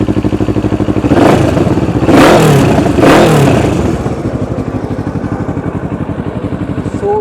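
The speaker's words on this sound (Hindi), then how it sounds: "ये भी प्लीज़ इसको स्टार्ट करेंगे, थोड़ा रेव करना" A loud Kawasaki Ninja 650 with an aftermarket exhaust idles with a rapid throbbing exhaust, then revs sharply three times before settling back to a chugging idle, close up.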